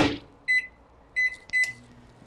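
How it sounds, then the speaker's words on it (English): A microwave oven warming butter gives three short, clear electronic beeps, evenly spaced and close by, over a faint low hum. "I'm going to throw that into the microwave"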